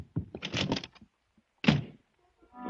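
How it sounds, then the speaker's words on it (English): A radio-drama door slam lands as a sharp thunk midway through, preceded by a bustle of short knocks and movement noises and followed by faint shuffling. "With a slam of the door, Miss Loring was gone, and so was the Hangle"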